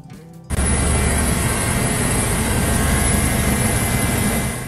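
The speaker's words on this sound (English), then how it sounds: "MH-65 Dolphin helicopter flying low along the ocean front." A Coast Guard MH-65 Dolphin utility helicopter flies low along an ocean front, its steady, loud rotor and turbine roar starting abruptly and holding constant throughout, with no voices.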